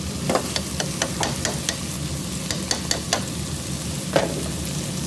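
Chicken and vegetables with green peas stirred in a hot frying pan: a steady sizzle with repeated scraping strokes of a utensil, close and fairly loud, with no voices.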